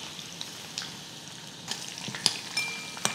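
Garlic and fenugreek seeds fry in hot oil with a soft continuous sizzle and a growing run of sharp pops and spatters, heard close up with no talk.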